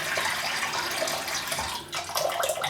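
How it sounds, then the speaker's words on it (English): Steady rush of water pouring from a tap into a sink, continuous and fairly loud, with a slight shift in the flow near the end. "I'll put some water in the sink."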